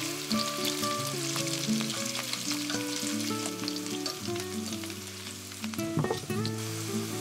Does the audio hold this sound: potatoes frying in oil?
yes